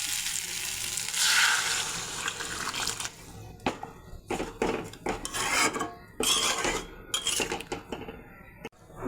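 Fish curry gravy made with tomato and spices bubbles in a pan with a close sizzling hiss, broken by a run of sharp clanks and scrapes of utensils against the pan. No one speaks.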